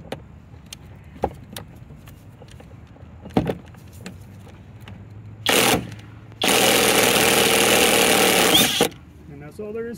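Yamaha outboard power trim motor lifting the engine: after some light clicks and handling noises, a short electric whir, then a longer steady buzzing hum of the trim pump for a few seconds that stops cleanly.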